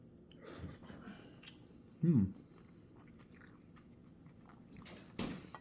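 A close bite of Presidents Choice salmon tataki coated in sauce, one soft wet bite around the middle followed by faint chewing, quiet, with a voice speaking briefly before.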